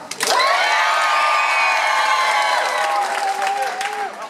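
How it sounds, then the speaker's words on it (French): A hyped-up audience erupting on cue with loud clapping, cheering, whoops and high-pitched shouting, a dense, sustained roar of many voices and hands that stays strong throughout. "C'est la folie, pas juste des applaudissements, des cris, etc."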